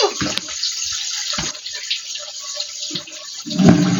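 Water splashes and pours out onto a surface in steady gushes, with several sharper splashy thumps close to the mic and a heavier slosh at the end.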